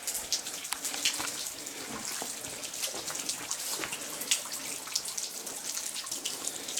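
Running water trickles and splashes steadily in the Blue Mountains, a close, continuous babble with scattered drip-like plinks and no voices.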